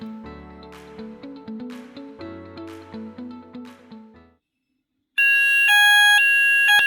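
A fire alarm system sounds during a detector test, a loud steady electronic tone with stacked harmonics that starts abruptly after a pause, following a stretch of lower, rhythmic chiming tones.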